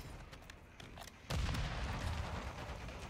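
A grenade explodes in a zombie video game: a quiet stretch of faint game noise, then one sudden heavy boom whose rumble lingers to the end.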